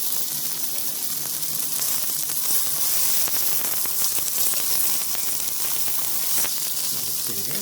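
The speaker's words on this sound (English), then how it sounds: "Now I think it is time to turn the sausage over." Sausage sizzling in a pan, a dense, even hiss of frying fat with faint crackles running steadily throughout, close by and fairly loud, with no voices.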